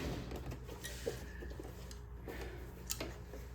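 A sewing machine runs a steady, even satin stitch while appliquéing a baby onesie, a continuous mechanical whir with a soft rhythmic tick close by and no talking.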